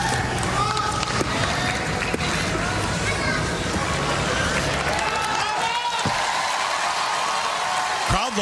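A large arena crowd at a world gymnastics championships cheers and roars continuously, loud and dense throughout, with commentators talking over it.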